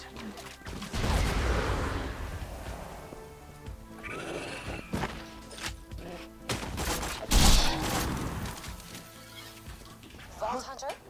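Enemy gunfire in Borderlands 2 crackles in bursts across the scene, with heavier impacts and explosive hits mixed in, sounding close and busy while voices and other game noises run underneath.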